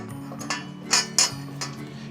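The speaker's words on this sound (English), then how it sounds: "And then once you get it in, it'll lock into place just like that. And you set the bottom grate in." A metal bottom grate set into a camper's fire pit on a Jayco Jay Feather Micro 12SRK, giving a few sharp metallic clinks and clanks, two louder knocks in the middle, over a steady low hum.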